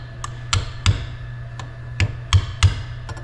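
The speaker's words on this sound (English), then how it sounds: "Give it a few smacks." A hammer gives a washer gentle taps as it seats inside the gearbox of a track loader final drive, with about eight sharp metallic knocks spaced irregularly, close and clear with no talk.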